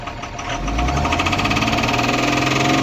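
A Tata 2518 BS4 truck engine with a knocking fault revs up, building from a steady idle to a louder, sustained roar with a rapid pulsing rhythm, close by and alone.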